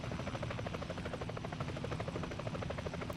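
An Apache helicopter in War Thunder flies with a continuous, loud rotor thump and engine drone, its rapid blade beat holding steady throughout.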